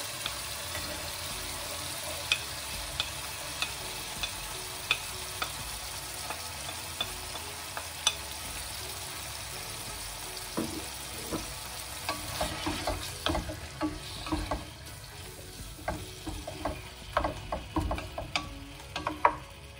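Meat sears with onion and garlic in a pan for kabsa rice: a soft, continuous sizzle carries sharp utensil ticks and scrapes that grow busier and louder toward the end, with no voices.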